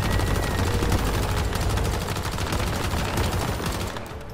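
Sustained rapid gunfire in the video game Once Human, shooting out a boss's lights, a loud steady stream of shots that tapers slightly near the end.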